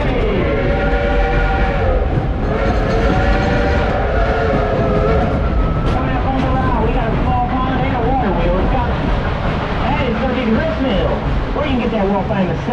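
A Dollywood theme-park train runs loudly and steadily with a sustained horn or whistle sounding over the rumble and clatter, while people talk in the background.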